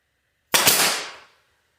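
A staple gun fires once with recoil while assembling drop-in assemblies, a single sharp, loud snap that decays quickly in an otherwise quiet room.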